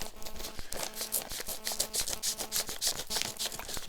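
Scissors snip through packaging in a quick run of short rhythmic cuts with faint rustling between them, close to the mic.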